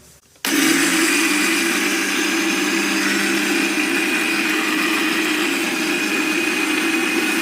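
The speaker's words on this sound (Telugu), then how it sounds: "నేను అయితే ఈ రైస్ని అయితే ఇప్పుడు మిక్సీ జార్లో వేసుకుని మిక్సీ అయితే పట్టేసుకుంటాను" Mixer grinder grinding soaked rice with a little water for punugulu batter, starting abruptly after a brief quiet and then running as a loud, steady, continuous whir to the end with no talking.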